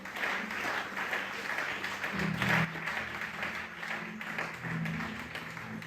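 Church congregation applauding together, a steady faint wash of clapping with a low hum of voices beneath, continuing for several seconds.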